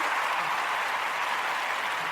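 A studio audience claps steadily, a dense, even wash of many hands at moderate loudness with no pauses.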